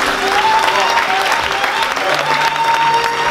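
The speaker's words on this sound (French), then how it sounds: "Nous allons acclamer Jésus-Christ." A church congregation at a Sunday worship service in Paris applauds Jesus Christ with steady, dense clapping that carries on evenly throughout, with a sustained tone and some voices mixed in.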